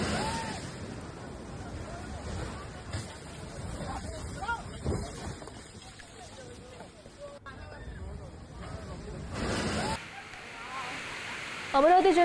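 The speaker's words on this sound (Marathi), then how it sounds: "प्रसिद्ध पर्यटन स्थळ असलेल्या मुक्तागिरी येथील धबधबा सध्या ओसंडून वाहतोय" Muktagiri waterfall in Amravati district overflowing after heavy rain, a steady broadband rush of falling water heard from a distance, with a voice talking over it throughout.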